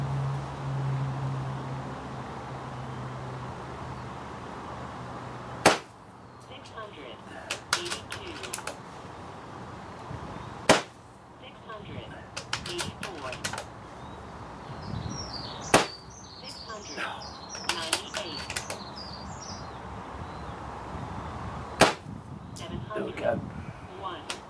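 A tuned Brocock Concept Elite air rifle fires four sharp, isolated cracks spaced about five seconds apart, with quiet outdoor ambience, faint chirps and low voices in between.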